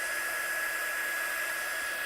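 A heat gun melting embossing powder on acetate gives off a steady, even, close-up whooshing hiss of blowing air with a thin high whine, unbroken throughout.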